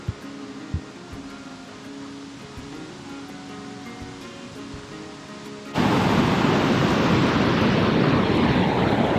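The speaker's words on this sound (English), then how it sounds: "Waterfalls everywhere you look on today's trail." A waterfall beside a Scottish Highland hiking trail roars as a loud, steady broadband rush that fills the second half, following a quieter stretch of low rumble and faint ambient noise.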